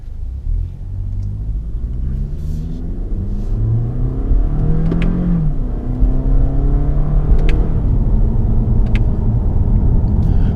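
A 2018 Toyota Camry XSE pulls away in sport mode, its engine rumbling steadily and revving as it gathers speed through quick gear changes, with road noise close and constant throughout and no talking.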